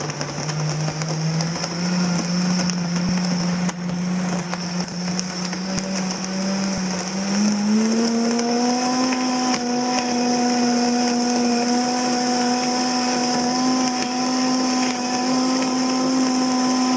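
Countertop blender mixing homemade puppy formula, a steady loud whirring motor that starts at low speed and steps up to a higher pitch about halfway through, running continuously alone.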